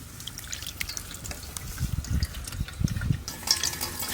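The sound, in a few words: straining mustard and green chili paste in water through a sieve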